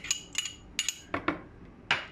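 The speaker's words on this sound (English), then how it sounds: "I'm gonna start by putting all my wet ingredients in the food processor" Raw almond butter, maple syrup and coconut oil go into a food processor with a series of sharp, close clinks and taps of utensils against the bowl, about seven light hits spaced irregularly.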